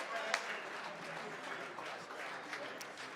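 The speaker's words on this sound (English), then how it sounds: "Give them a round of applause." An audience applauds at an HBCU All-Stars awards celebration, with steady, dense clapping from a crowd that holds at an even level throughout.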